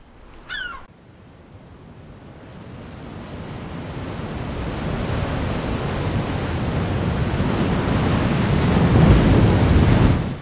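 Wind and surf roar steadily on the coast of Skokholm Island, off Pembrokeshire, building louder over time, after a brief bird call near the start; no voices.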